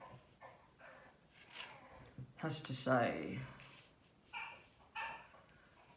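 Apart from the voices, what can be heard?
dog whimpering at the door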